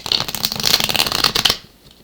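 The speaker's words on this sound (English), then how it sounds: "I know the shuffling is awfully loud" Loud, close shuffling of tarot cards, a rapid flurry of riffling and slapping that stops abruptly, leaving near silence.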